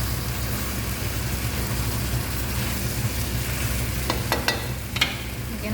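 Lamb (laham) sizzling in a pan as it is stirred, a steady close frying hiss over a low hum, with a few sharp utensil scrapes and clinks near the end.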